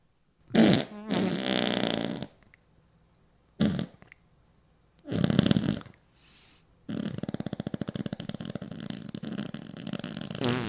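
Several mouth farts made with the lips, short bursts, then a long buzzing raspberry that runs on for several seconds. A voice imitates a fart sound, up close and loud with pauses between attempts.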